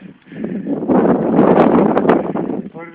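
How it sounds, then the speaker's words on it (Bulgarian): Strong headwind buffets the microphone while cycling up a 12% climb, a loud, rushing roar that swells and holds for a few seconds. "Вятъра на срещен."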